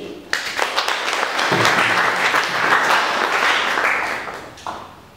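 At a closing ceremony for a sixteen-day activism campaign in Goma, a crowd bursts into applause that swells into a dense, steady roar of clapping before tapering off near the end.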